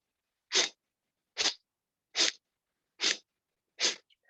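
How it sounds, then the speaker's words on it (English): Five sharp, forceful exhalations through the nose in a yoga breathing exercise, spaced evenly about a second apart, close and clear against silence. "it's always through the nose. So it's like a sneezing exercise"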